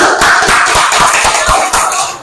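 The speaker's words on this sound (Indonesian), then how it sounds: "tepuk tangan buat Sandi" A small classroom group claps briskly for a student, a dense patter of hand claps lasting about two seconds, close and fairly loud with no talking over it.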